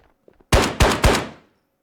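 An SKS rifle in the Ghosts of Tabor game fires three loud, close shots in quick succession, each with a short booming tail, after a few faint clicks of handling.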